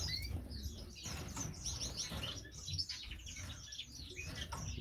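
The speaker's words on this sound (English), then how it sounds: "So these are the new birds that I've got." Several caged pet birds chirp and tweet in quick, overlapping bursts with soft wing flutters and rustling, faint and close, no talking.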